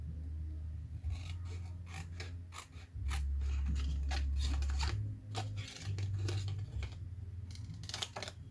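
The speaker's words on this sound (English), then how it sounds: "I'm just going to use the scissors to" Scissors snip through coloured paper for a handmade card in a series of close, crisp cuts, with irregular rhythmic clicks and slicing strokes over a low steady hum.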